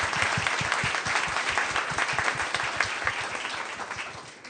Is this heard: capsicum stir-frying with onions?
no